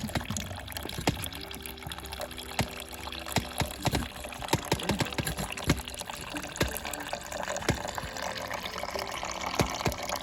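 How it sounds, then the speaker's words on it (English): Fresh grape juice pours and trickles from a grape press, a steady liquid dribble with scattered drips and small splashes running throughout at close range, no talking. "You can hear the juice coming out."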